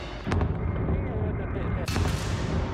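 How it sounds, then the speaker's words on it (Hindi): Ka-52 helicopters fire missiles at the large oil depot in Odesa, heard as a heavy, rumbling blast with a sharp crack near the start and another loud burst later, booming over continuous low roar. "ओदेसा के सबसे बड़े तेल डिपो पर मिसाइल बरसाकर उसे तबाह कर देते हैं"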